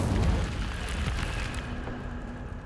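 Incendio fire spell cast in Hogwarts Legacy, a loud, sustained whooshing burst of flame with rumbling low end that trails off steadily over a few seconds, with no voices.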